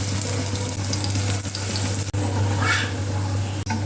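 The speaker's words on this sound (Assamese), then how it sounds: "নৰসিংহ পাত বেচনি ভাজিছিলোঁ" Curry leaves coated in gram flour batter fry in hot oil, a steady close-up sizzle and crackle with a low hum beneath and a couple of brief dropouts.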